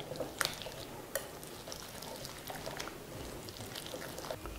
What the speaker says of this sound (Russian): Все это хорошенечко нужно перемешать.